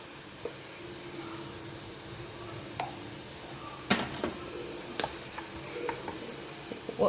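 Turmeric powder tipped into shallots frying in a pan on a very low flame for a Kerala-style kudampuli fish curry, giving a steady soft sizzle with scattered sharp clicks and scrapes of stirring, fairly quiet and without talk.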